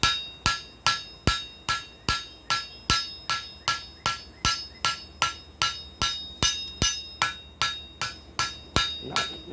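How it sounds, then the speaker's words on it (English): A small hammer strikes metal in a steady, even rhythm beside a firepot, about two sharp ringing taps per second, close and clear with no talking. "Let's lay this out with this tiny little hammer and see how it goes."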